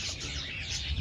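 Laughing doves (qumri) calling among other birds, a short burst of bright chirping and twittering over a dense, noisy background, fairly close and loud.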